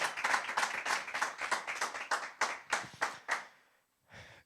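A church congregation claps along in a steady, rhythmic beat, each clap sharp and distinct, before the clapping breaks off into a brief pause and a short final burst.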